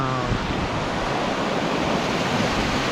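A large river flowing beside the Pacific Crest Trail gives off a steady, loud rushing roar that holds constant throughout, with a faint low hum at the very start and no talking.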